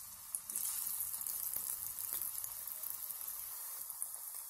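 Bitter gourd pakoda pieces frying in hot oil make a steady, close crackling sizzle that holds throughout, with a few sharper pops as pieces settle.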